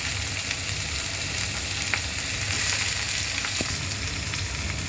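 Small potato pieces fry in a pan with a dense, steady sizzle and faint crackles, close and continuous with no talking.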